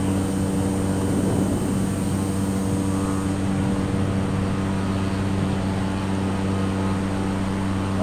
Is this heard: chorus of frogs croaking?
no